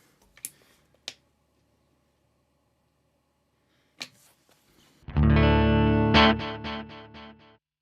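A few soft clicks, then an electric guitar chord through a Line 6 Pod Express rings out loudly, strummed a couple more times and washed in reverb as it fades.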